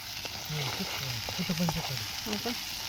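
Vegetables hit a very hot pan in a small tin-shed home kitchen and give a steady, fairly loud sizzle and frying hiss while someone talks over it.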